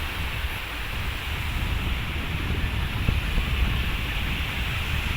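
Surf at Pantai Sago beach rolls in as a steady broad wash of waves, continuous and fairly loud with a faint swell near the middle, no voices over it.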